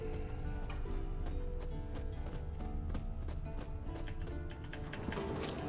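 Rapid clip-clop of galloping horse hooves in The Witcher 3: Wild Hunt runs steadily throughout, loud and continuous, with a busy game soundscape layered underneath.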